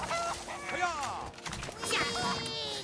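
Chickens dropped onto the field in the mobile game South Park Phone Destroyer, squawking and clucking in bursts over game sound effects with thuds and clatter, busy and fairly close.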